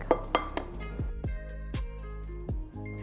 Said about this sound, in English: Now we're going to make a well in the center and break in the eggs.